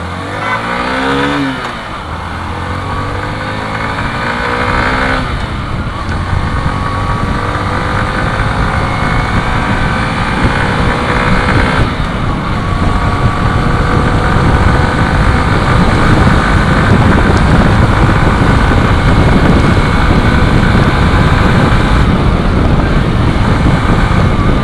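Hero Passion Pro Xtec 2022 motorcycle on a top speed run, its engine droning steadily and climbing through gear shifts, loud and close over heavy wind rush with no talking.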